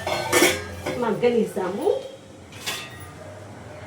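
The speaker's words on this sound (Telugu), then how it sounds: "ఒక 2 నిమిషాలు మనము మూత పెట్టేసుకొని" Metal clatter of a lid being set on a cooking pan of pepper chicken, a couple of clanks and a ringing scrape, with a voice speaking over it.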